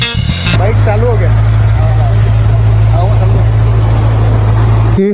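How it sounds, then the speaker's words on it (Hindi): Kawasaki motorcycle engine just started after a battery replacement, idling loud and close with a steady low drone and a faint high whine, while someone talks over it. "बाइक चालू हो गया।"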